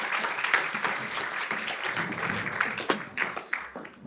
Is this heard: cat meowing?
no